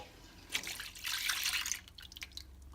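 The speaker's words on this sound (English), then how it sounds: "And then you pour your carnation milk." Carnation evaporated milk is poured into a pot for arroz con dulce, giving a short, close splashing stream that swells and then trails off into a few drips.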